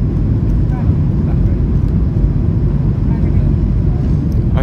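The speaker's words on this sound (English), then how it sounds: "Cabin lights are dimmed and we are prepared for landing, just on our short final now." Cabin of a Ryanair Boeing 737-800 on short final approach, with a loud, steady low-frequency engine and airflow rumble filling the cabin, constant and close, with no voices heard.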